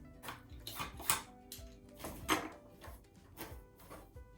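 Carrots dropped into a pot one after another, making several quiet clattering knocks spread across a few seconds.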